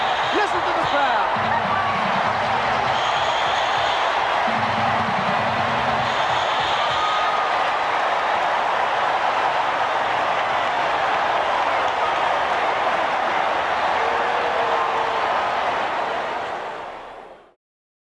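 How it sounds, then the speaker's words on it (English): Large stadium crowd roaring after a game-ending strikeout in the 1988 World Series, a dense sustained wash of cheering at steady loudness that fades out at the end. "Listen to the crowd"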